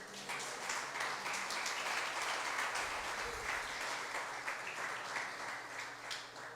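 A church congregation applauds during a sermon, a steady, sustained roar of many hands clapping that holds evenly at moderate volume from start to finish.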